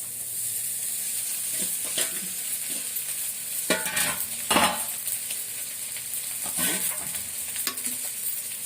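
Cooked rice tossed with egg and vegetables in a hot pan, with a steady sizzle under intermittent scraping and clinking of a spoon against the pan, several louder stirring strokes standing out.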